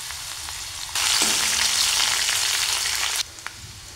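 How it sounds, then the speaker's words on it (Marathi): Hot oil bursts into a loud, close sizzle as a tempering goes in, with garlic, curry leaves, ginger, cumin and mustard seeds. A steady hiss lasts a few seconds and then drops to a quieter bubbling. "आता फोडणी देऊन घेऊयात।"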